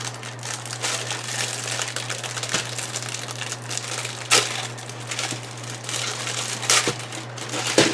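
A plastic bag holding a model tank kit hull, for a Panther Ausf. A with zimmerit, is handled up close, giving steady crinkling and crumpling with a few sharper rustles over a low constant hum, without talk.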